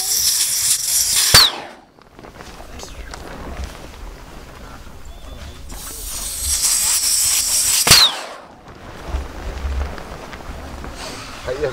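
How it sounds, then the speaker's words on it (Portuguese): A Quechua Air Seconds Family 4.1 XL inflatable tent deflates as its air columns are released, giving two sharp bursts followed by loud rushing air escaping, with people talking quietly in between. "E pra esvaziar, vocês vão ver agora como é a rapidez do negócio."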